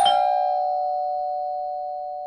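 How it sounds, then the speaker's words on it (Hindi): A single bell-like doorbell chime rings out clearly, then decays into a long, steady sustained tone that slowly fades. "बंटी की घंटी बजी।"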